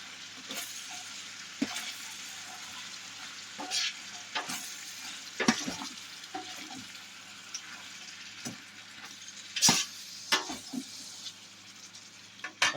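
Three heaping tablespoons of minced garlic sauté in a pot ahead of a big batch of collard greens: a steady close sizzle broken by the scrape and clink of a spoon stirring at irregular intervals, with no talking.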